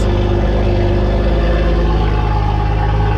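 BMW M140i tuned to Stage 2+ with a loud exhaust, revving hard and close up for a few seconds with a deep, continuous roar and no talking.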